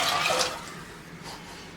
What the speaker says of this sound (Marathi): त्यानंतर त्याच्यामध्ये अर्धी वाटी पाणी टाकून घ्यायचं